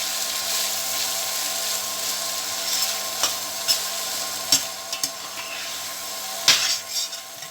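Okra and onions stir-fried in a pan, a soft continuous sizzle with intermittent scraping and clinks of a spoon against the pan, close by and unaccompanied by talk.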